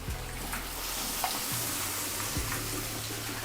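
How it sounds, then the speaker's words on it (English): Battered fish frying in hot oil at about 180 Celsius, giving a steady, dense sizzle and bubbling throughout with a few faint clicks and no voices. "this goes into the hot oil, always away from you"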